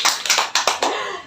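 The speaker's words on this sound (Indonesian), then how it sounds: "Kalau tepuk tangan buat Mbak Dea." A small group in a counseling session claps for Mbak Dea: about five close, distinct hand claps in an uneven rhythm, then a fading tail of quiet.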